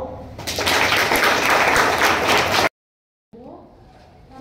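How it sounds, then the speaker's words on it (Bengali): Loud burst of audience clapping after a call to applaud a child who answered a question, building quickly and holding steady, then cutting off abruptly into silence before faint room sound returns. "আরেকবার সবাই করতালি দাও।"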